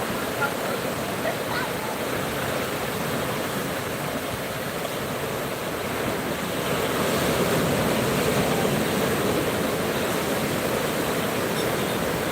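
Sea waves wash onto a tourist beach as the tide comes in, a steady broadband roar of surf that stays continuous and swells slightly louder in the second half, with no clear speech.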